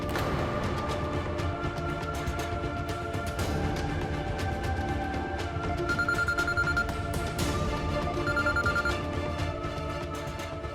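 A telephone rings repeatedly in a TV drama as a call is placed, its electronic ring tone pulsing in bursts over a busy, loud background music bed, with no speech.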